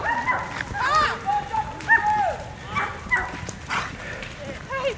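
Several dogs bark and yip in quick repeated bursts at close range, mixed with other activity after being let out of a house.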